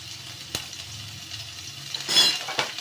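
Vegetables and carrot tossed into hot oil in a frying pan give a steady close sizzle, with a sharp clink of a utensil early on and a louder burst of frying near the end.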